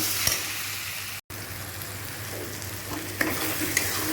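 Spice masala for ghugni being sautéd and stirred in a pan, a continuous moderate sizzle with a low steady hum, a brief dropout, and a few light scraping clicks near the end; no voices.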